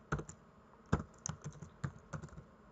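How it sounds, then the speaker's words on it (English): Close, quiet clatter of computer keyboard keys at a Windows desk, irregular bursts of individual keystrokes with brief pauses, no voices. "I'm going to delete that and type print"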